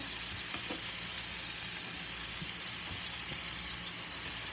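Cube steak fries in a pan on medium heat with a steady, dense sizzle and hiss. It is close and continuous, with faint utensil clicks and no speech.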